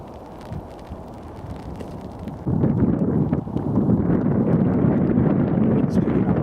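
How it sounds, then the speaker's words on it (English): Wind gusts buffet the microphone during a snowy countryside walk, a low rumbling roar that grows louder and fuller partway through, with faint footsteps crunching underneath. "The wind's picking up a bit as well."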